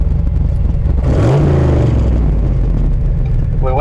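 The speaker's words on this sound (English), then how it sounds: "if you give me a nice aggressive throttle hit" A turbocharged 1986 Mustang engine revs hard on an aggressive throttle hit, a loud, close rising roar that sweeps up and then settles back under a constant engine drone, with people talking over it.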